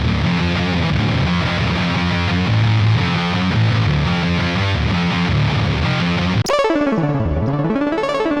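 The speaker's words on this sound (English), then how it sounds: "Out of all these sort of fuzzy, nasty tones, I found this one the best." Fuzzy, nasty distorted guitar tone from an Archetype Rabea plugin: thick chugging riff with repeated rhythmic notes, then an abrupt switch to a warbling, pitch-swooping synth-like fuzz, loud and unaccompanied by speech.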